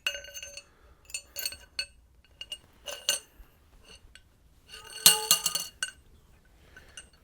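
A motorcycle fork valve body from a Harley Sportster or Dyna dropped through the fork tube, giving several sharp metallic clinks and rattles, close and isolated, with a louder cluster of clanks near the end.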